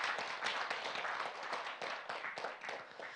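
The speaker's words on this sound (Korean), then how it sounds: "박수를 부탁드리겠습니다, 여러분" A short round of clapping from an audience at a Jeungsando religious lecture, fairly faint and distant, with individual claps audible in a steady patter.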